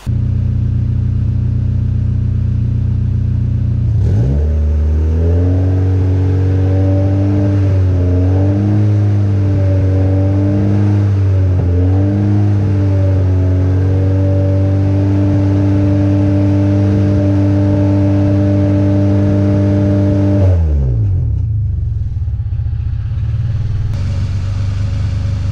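Car exhaust captured by a GoPro mounted on the bumper: low idle rumble, then a sustained rev that climbs and wavers for about sixteen seconds before dropping sharply back to idle, close and loud with no talk.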